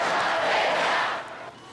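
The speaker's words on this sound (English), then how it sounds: "Crowds have gathered at the Capitol in Madison to demonstrate over the state's budget" Large crowd of protesters demonstrating over the state budget inside the Wisconsin Capitol in Madison, a loud, echoing roar of massed voices that holds steady and then fades somewhat near the end.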